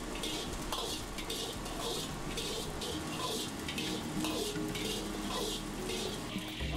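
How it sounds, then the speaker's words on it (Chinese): Diced beef stir-fried in a pan over medium heat, a constant sizzle with rhythmic scraping and clinking of utensil on metal, moderately loud with no voices. "然后将切好的牛肉粒下锅，用中火煸炒成沫"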